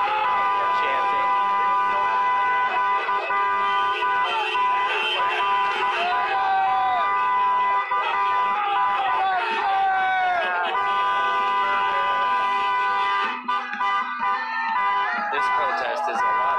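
Car horns honk in long sustained blasts mixed with wailing siren tones at a street protest, loud and close, with crowd noise and voices throughout.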